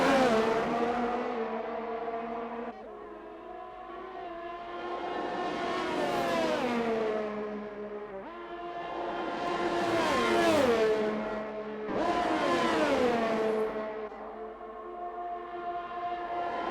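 Racing cars in a Formula-style racing video game on the Belgium circuit, with Ferrari-powered cars, scream through repeated rising and falling engine revs as gears shift, loud and continuous with several accelerating sweeps.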